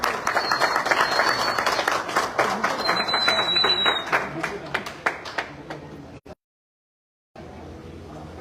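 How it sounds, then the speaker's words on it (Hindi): Hearty audience applause for a guest at a car delivery ceremony, with dense rhythmic clapping and a voice or two under it for about six seconds, then a sudden silence and faint room noise. "एक जोरदार तालियां होनी चाहिए राम सर के लिए"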